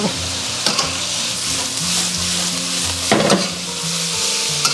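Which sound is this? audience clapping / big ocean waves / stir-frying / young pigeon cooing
stir-frying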